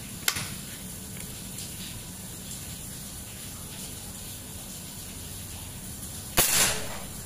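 After a faint early click and a quiet stretch, a folding AK air rifle with a 60 cm Monel OD27 barrel at 4000 PSI fires a single loud, close shot that shatters a brick, ending in a brief hiss.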